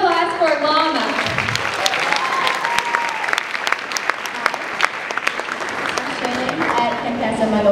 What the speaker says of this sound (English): give it a round of applause for Llama